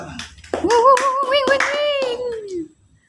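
Classroom students clap their hands in a few sharp, rhythmic claps while voices chant loudly together, then the clapping and chanting stop abruptly into near silence.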